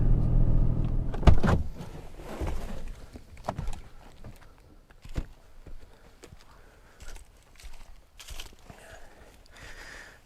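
A log loader truck backs into a job site, with a loud engine rumble at first that fades, then scattered clunks, knocks and short mechanical bursts spread over the rest, some close and sharp, others fainter.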